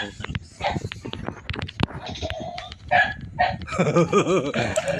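A dog barks a few times in the video game Call of Duty amid clattering sound effects and clicks, with a person talking over parts of it.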